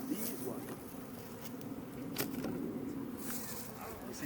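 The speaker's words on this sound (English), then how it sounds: "You see, now these are the robber bees." Robber bees swarm around a beehive with a honey super, making a dense, steady, close buzz that runs throughout, with individual insects flying past the mic.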